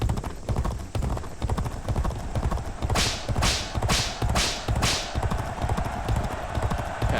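Racehorses gallop in the G1 Jockey 4 horse-racing video game, a fast drumming of hooves under a broad rushing noise, with a quick run of five sharp whip-like swishes partway through.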